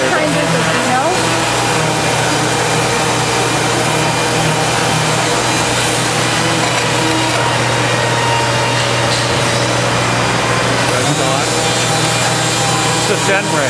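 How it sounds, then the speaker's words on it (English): Wood doors being finish-sanded over a Denray downdraft table in a door-building shop, a steady loud abrasive rubbing with a constant machine hum running underneath throughout. "He's finish sanding doors for a customer."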